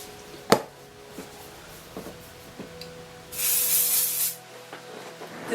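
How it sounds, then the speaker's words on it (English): Davroe Complete Stronghold hairspray sprays onto styled hair in one sustained hiss of about a second, close and fairly loud, set among faint handling clicks and taps with no talk. "complete stronghold hairspray from Davroe"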